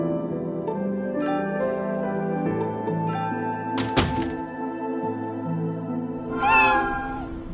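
Stray cats meowing in a video game: several drawn-out, tonal meows from different cats over a steady background music drone, with a soft thunk midway and a final rising meow near the end.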